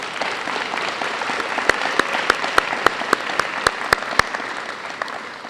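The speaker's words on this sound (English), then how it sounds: "if you could give your coaches a round of applause" An audience of student athletes at a high school varsity jacket night applauds their coaches. The clapping is steady and fairly dense, with a few sharp, close claps standing out on top.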